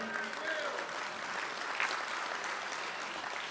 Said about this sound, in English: You can give him a round of applause.